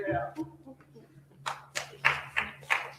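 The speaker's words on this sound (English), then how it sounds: "Please, no clapping." A voice speaks at the start, then several sharp, irregular claps ring out, a short burst of hand clapping rather than sustained applause, at a city council meeting.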